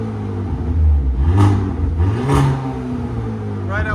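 A Hyundai Kona N with an aFe or Stainless Bros cat-back exhaust, valve closed, revs twice in two quick swells, a close, loud and fairly muffled engine drone over a steady idle.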